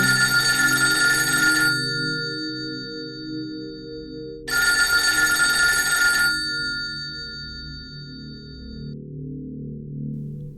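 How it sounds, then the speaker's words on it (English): A telephone bell rings in two long bursts separated by a pause, bright and loud, with a lingering hum and low background tones between them. "She didn't even know how long she let the phone ring"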